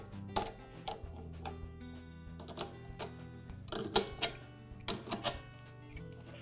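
An adjustable wrench works a coupler off an air compressor regulator, giving scattered metallic clicks and taps at an uneven pace, close and fairly quiet, with no voices.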